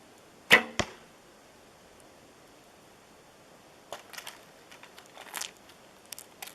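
A bow shot with a new endless-loop string fitted without string silencers, giving one sharp, loud twang and slap with a quick second knock, followed by quiet and then faint rustling and crunching in snow.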